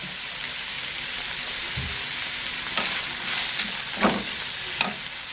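A large chopped onion frying in a pan, giving a loud, steady sizzle with occasional stirring scrapes and crackles near the end, close up, no voices.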